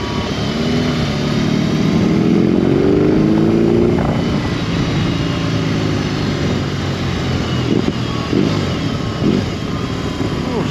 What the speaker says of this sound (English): she's got a little backfire gurgle